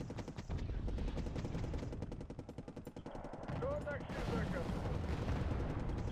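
Artillery fire in the Wargame: AirLand Battle video game, a dense rumble of repeated booms and gunfire rolling continuously under game sound effects, loud throughout with a brief lull mid-way.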